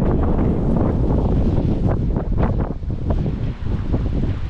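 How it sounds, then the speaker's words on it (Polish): Strong wind buffets the microphone outdoors at a public car auction, a loud continuous rumbling roar with gusty surges and no speech. "To jest wiatrzyk"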